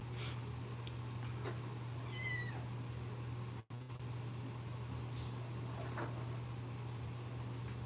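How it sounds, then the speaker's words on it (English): Kittens found on a gravel road meowing in a few short, faint high cries, scattered over a steady low hum and faint background noise. "So these are the kittens that Jovi and her friends found on the stree"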